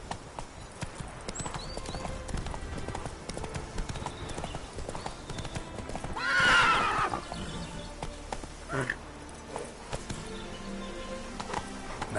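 The horse Roach in The Witcher 3 neighs once in the middle of steady, rhythmic hoof clip-clops, with ambient game sound underneath throughout.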